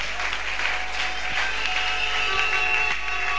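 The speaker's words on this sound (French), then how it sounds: "Acclame très fort." A church congregation cheers and applauds together, with dense sustained clapping and crowd voices filling the hall at a fairly even level throughout.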